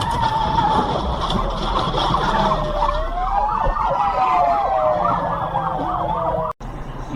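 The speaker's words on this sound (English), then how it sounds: "Troopers coming in hot, and there's the ambulance." Police trooper and ambulance sirens at a road accident scene, loud and continuous, wailing and sweeping up and down over heavy traffic rumble. The tones overlap and shift throughout, broken by one brief dropout near the end.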